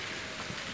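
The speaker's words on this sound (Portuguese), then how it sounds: "Eu não sei se eu fico aqui ou espero a chuva engrossar." Light rain falling, a soft, steady patter of drops on surfaces heard faintly and evenly throughout, with no talking.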